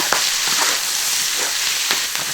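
Scallion, ginger and garlic fry in hot pork fat left from browning pork belly, giving a steady close sizzle with a few sharper spits and pops.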